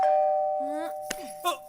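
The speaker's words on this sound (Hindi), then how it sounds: "दरवाजे की घंटी बजी है।" A doorbell rings in a Hindi comedy film scene, a clear electronic ding-dong chime with a sustained tone, followed by brief clicks and a short accent near the end.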